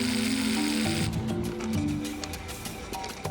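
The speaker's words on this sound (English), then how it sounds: "drill a hole in the concrete." A drill bores a hole into the concrete face of a roughly 645-foot dam, a steady mechanical whir with faint rhythmic hammering, close by and continuous throughout, with no voices.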